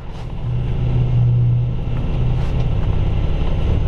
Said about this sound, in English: just give it a little bit of gas and it's off and moving